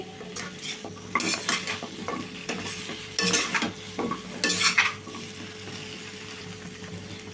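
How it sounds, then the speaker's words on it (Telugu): Veg manchurian stirred in a pan on high flame: a spatula scrapes and clatters against the metal in irregular bursts over a soft continuous sizzle, close and fairly loud, with no talking. "ఇప్పుడు ఒక్క నిమిషం పాటు అయితే హై ఫ్లేమ్లో పెట్టుకొని అయితే కలుపుకుందాం అండి"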